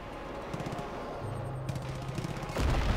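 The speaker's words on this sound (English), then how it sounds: "We got gunfire everywhere" Gunfire in the Far Cry 5 video game, a dense rattle of distant shots and bursts layered over a droning background, ending in a heavier, louder blast.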